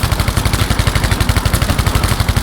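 Rapid automatic gunfire from a Thompson submachine gun in Battlefield V, a steady fast burst of loud, close shots running the whole time without pause.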